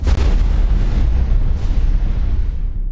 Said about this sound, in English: This way you can really see how big that blast is.